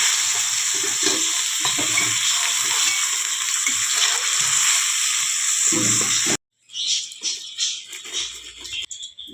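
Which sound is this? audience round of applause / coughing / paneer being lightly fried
paneer being lightly fried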